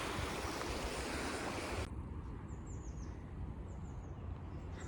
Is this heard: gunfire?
no